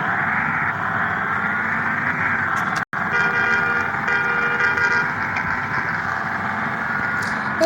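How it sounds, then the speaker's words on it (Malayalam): A bus horn in the video game Bus Simulator Indonesia honks loudly and steadily with a sustained, toot-like tone that runs almost the whole time, broken by one very short gap. "ഒന്നാമത്തെ ഹോണ് ഞാൻ ഇപ്പം അടിച്ചത് തന്നെ"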